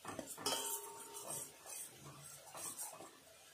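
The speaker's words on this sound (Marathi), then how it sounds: "इथे छानपैकी याला आपण तेल सुटेपर्यंत मस्त कलसून घेणार आहोत" Coconut masala stirred and roasted in a pan until the oil separates, giving quiet metallic spoon-on-pan clinks and scrapes over a faint sizzle, close but soft, with no talking.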